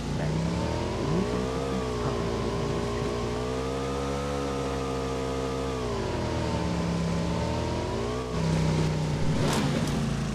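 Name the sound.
motorbike engine revving in a battle royale video game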